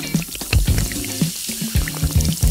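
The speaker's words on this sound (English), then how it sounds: "Let's fill these shapes up with water" Water pouring into small shape molds in a close, quiet setting: several short splashy pours and trickles in uneven bursts, separated by brief pauses, with no voices.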